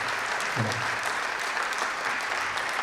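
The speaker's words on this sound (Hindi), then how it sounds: "आप सबसे अनुरोध है कि जोरदार तालियों से उनका स्वागत करें" Dense, steady applause from a seminar audience welcoming a speaker, filling the whole stretch at an even, moderate level with no voices standing out.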